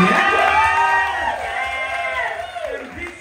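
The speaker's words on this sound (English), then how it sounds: "Roscoe, give her a big round of applause to Dragula alum Cynthia Dolls." Crowd at a drag show in a Chicago bar whoops and cheers loudly, with excited shouting voices rising over one another through the whole burst.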